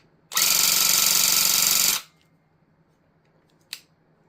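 Rug tufting gun on its high speed setting, needle and scissors hammering in a dense, loud, rapid buzz for under two seconds, then silence broken by one short click.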